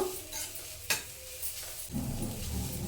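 Grated carrot roasting in a pan for carrot halwa, heard as a close, steady sizzle with scraping stirs and one sharp clack of the spoon partway through.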